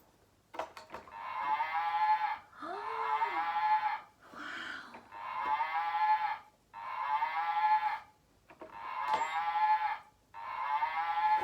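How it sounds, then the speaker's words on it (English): A cow moos repeatedly, six long drawn-out calls in steady succession with brief pauses between them, loud and close with no talking. "The cow is mooing."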